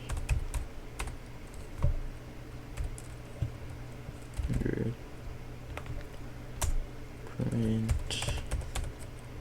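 Someone typing code on a computer keyboard, with scattered clicks and short bursts of keystrokes under occasional quiet talk.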